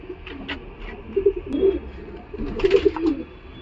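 A Madras pigeon coos in soft, low, throaty bursts, close by, several times across a few seconds, with faint background hiss and no talking.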